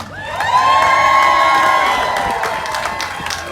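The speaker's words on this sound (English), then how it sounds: "now cheer again" A crowd at an outdoor ReOpen San Diego rally cheers and whoops loudly, a sustained swell of high shouting voices that slowly fades toward the end.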